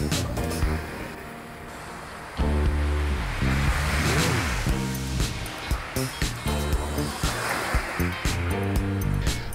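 Surf breaking on a sandy Caspian Sea beach in Dagestan, a steady wash of waves with rhythmic swells, mixed under a loud continuous musical background.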